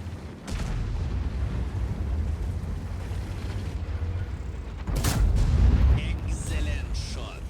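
A heavy tank gun fires in World of Tanks from a Japanese Ho-Ri 3 tank destroyer. A single loud, booming shot lands near the middle, over a steady rumble of engine and battle ambience.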